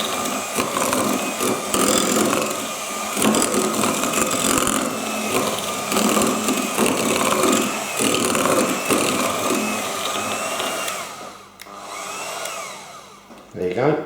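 An electric whisk beats chocolate chip cookie dough in a bowl, a loud continuous motor whir with a rough, grinding edge. It runs steadily for most of the stretch, then cuts out briefly near the end before starting up again.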